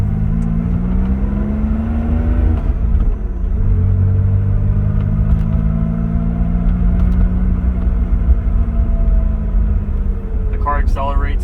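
A 1976 Porsche 911S Targa accelerating on its stock exhaust with a mellow, moderate note, pitch climbing through gear shifts, heard from inside the car over a steady rumble.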